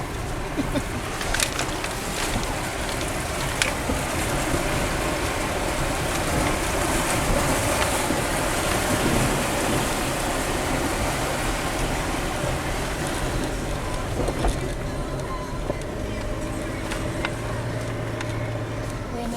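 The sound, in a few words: 4WD vehicle driving through a river crossing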